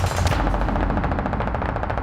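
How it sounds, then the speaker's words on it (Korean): Rapid, continuous machine-gun fire crackles in a dense rattling stream during a Korean War battle, loud and close, with a heavy boom-like thump at the start. "토끼고지 쪽에선 폭음과 총소리가 들렸다고 합니다."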